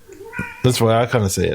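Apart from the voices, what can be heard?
cat meowing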